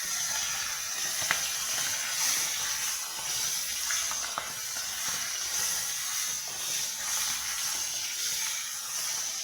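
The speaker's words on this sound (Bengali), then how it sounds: "মাথাটা ভেজে নেব, মাছের মাথাটা ভেজে নেব।" A hilsa fish head fries in hot oil in a wok, giving a steady, bright sizzle with a few small pops, moderately loud and without talk.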